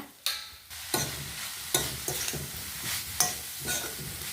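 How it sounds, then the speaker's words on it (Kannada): Radish stir-fry with chili roasting in a pan, a steady sizzle broken by repeated scraping strokes of a spatula at an irregular rhythm, close and fairly loud with no voices. "ಚೂರು ಒಂದೆರಡು ನಿಮಿಷ ಹಸಿ ವಾಸನೆ ಮೆಣಸಿನ ವಾಸನೆ ಹೋಗುವಷ್ಟು ರೋಸ್ಟ್ ಮಾಡ್ಕೊಂಬ"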